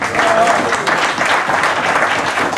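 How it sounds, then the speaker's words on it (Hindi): A rally crowd bursts into loud, full applause for Chaudhry Munir Gujar at a party gathering, dense close clapping from many people sustained evenly throughout. "इनके लिए एक दफ़ा फिर भरपूर तालियां"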